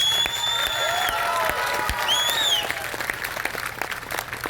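An audience at a Hindi comedy poetry gathering claps in a continuous patter of applause, loud and close at first and then thinning out. Faint whistles rise above the clapping.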